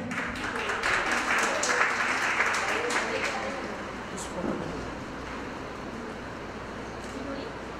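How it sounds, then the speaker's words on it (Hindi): An audience at the Rajasthan Film Festival award show applauding actors, a dense, fairly loud burst of clapping that gradually thins, with murmured voices underneath. "उसके एक्टर आयुषी के लिए जोरदार तालियां हो जाएं।"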